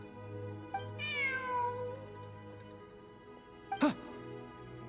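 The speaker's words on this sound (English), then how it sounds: "Look, a cat." Cat in Genshin Impact gives a rising-then-falling meow, followed a few seconds later by a short, sharper second meow over a quiet game background hum.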